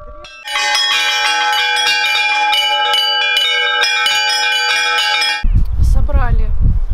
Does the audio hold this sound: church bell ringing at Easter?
yes